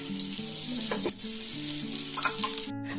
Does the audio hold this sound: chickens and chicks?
no